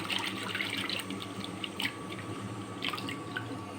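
Water runs and splashes in a sink with intermittent drips and clinks as vegetables are rinsed, steady and close.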